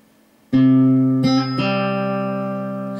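Three plucked fingerstyle guitar notes, a folk phrase, ring out one after another, each clear and close, the last one sustaining and slowly fading.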